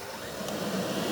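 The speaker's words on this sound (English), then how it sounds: "Now I'll do the same test on this vacuum." A Shark AV2501S AI Ultra robot vacuum runs during a wall-avoidance test, giving off a steady, even whirring hum with no pauses.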